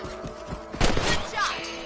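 A gunshot rings out in Red Dead Redemption while hunting rabbits on a farm, a single loud crack with a short thudding tail standing out against quiet ambience.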